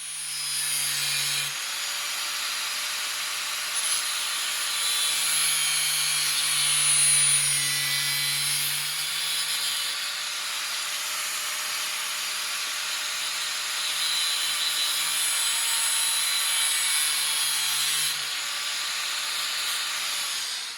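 An angle grinder fitted with a cutting disc slices through a steel body panel patch for a widebody 6x6 Land Cruiser, a steady loud hiss and whine running continuously with slight shifts in pitch as the disc bites.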